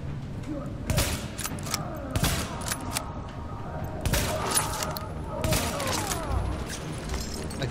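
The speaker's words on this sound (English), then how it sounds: "Gotta love sniper rifles, man." Sniper rifle fire in The Division video game, with sharp cracking shots scattered irregularly among thuds, mechanical clicks and busy combat noise, close and punchy throughout.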